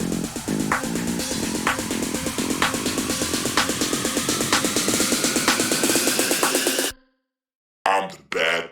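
A finished tech house track plays loud and steady with a driving four-on-the-floor pulse and repeated percussive hits for about seven seconds, then cuts to silence before short bursts of sound return.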